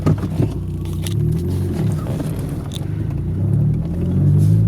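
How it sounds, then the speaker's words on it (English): A car backs slowly out of a driveway, its engine giving a low, steady rumble close by that swells slightly as it moves, with a few faint clicks and no talking. "Back on out of the driveway."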